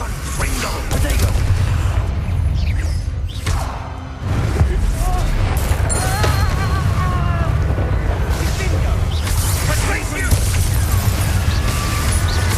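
Spell blasts and fire spells go off in the Hogwarts Legacy game, a dense run of booming explosions, crackles and whooshing impacts across the whole stretch, with a brief lull near four seconds, under spoken incantations.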